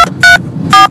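Telephone keypad dialing tones from a mobile phone, three clear beeps at close range, with a short one, a longer one, then another, over faint background murmur.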